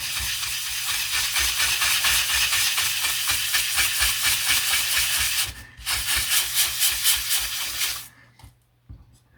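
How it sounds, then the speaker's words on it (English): Steady, rhythmic scrubbing and rasping of a foam sanding pad against the edges of thin lithoplate aluminium on a model plane, loud and close, pausing briefly before trailing off into quiet. "all I'm going to use is a bit of foam sanding pad"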